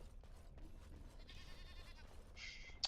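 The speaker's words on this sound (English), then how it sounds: "Why do I hear a sheep?" A sheep bleats faintly in the video game Dragon Age: Origins, with two wavering, nasal bleats over quiet background ambience.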